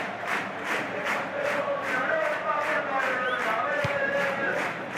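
Stadium crowd noise from the Pro Evolution Soccer football video game during a Real Madrid versus Manchester United Champions League match, a steady loud roar with rhythmic swelling chants and scattered whistles throughout.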